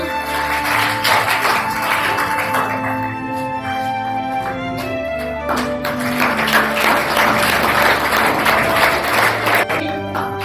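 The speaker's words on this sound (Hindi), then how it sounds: "नीलम के लिए तालियां।" Applause at a school annual function honoring a student, with clapping blended into loud background music with sustained tones, swelling stronger in the second half.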